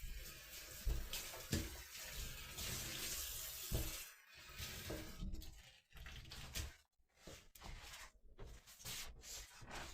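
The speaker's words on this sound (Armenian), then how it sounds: "Հոսող ջրի տակ։" Tap water runs and splashes while cabbage is washed under it in a kitchen sink, a steady rush broken by brief gaps and changes as the flow is interrupted.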